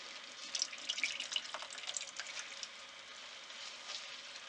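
Salted cabbage for kimchi is wrung out by hand, and the brine trickles and splashes steadily into a sink or bowl. It is a soft, continuous watery hiss with small drips, with no talking.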